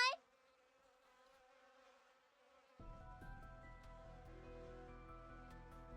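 Insect-like buzzing from a video game, a steady droning hum that starts quietly and turns into a thicker, louder buzz partway through, with a sharp tone at the very start.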